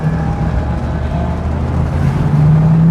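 A small car engine runs and gains speed during a Mini Fast & Furious themed drive, a steady low hum with rising revs, loud and close throughout, without voices.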